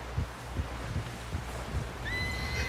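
A horse in Red Dead Redemption 2 lets out a rising whinny near the end, preceded by steady rhythmic hoofbeats clip-clopping at a walk over a low ambient rumble.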